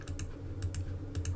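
Quick light keystrokes on a computer keyboard as a number is entered into a Spanish numbers app, a short burst of about half a dozen soft clicks close up over a low background hum.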